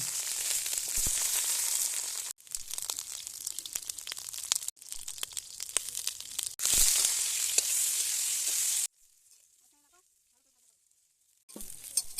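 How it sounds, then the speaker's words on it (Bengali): Eggplant fries in oil in a kadhai with a loud, close crackling sizzle, broken by short gaps and a longer quiet pause before the frying returns. "ভেজে তুলে নিলাম লাল লাল করে।"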